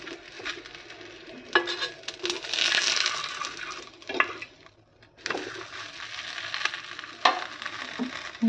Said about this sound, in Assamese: অকণমান তেল দি পেলাই ভাজিম এতিয়া।